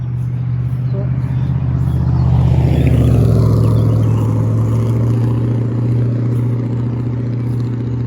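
A car passes by in roadside traffic, its engine rumble swelling to a peak and then fading, with a person talking nearby throughout.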